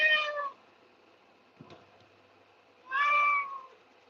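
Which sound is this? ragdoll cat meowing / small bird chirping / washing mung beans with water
ragdoll cat meowing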